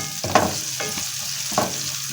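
Peppers dropped into a pan of lightly browned onions, cooking for a chickpea dish in white sauce: steady close sizzle broken by two or three louder bursts of stirring and scraping, with no talk.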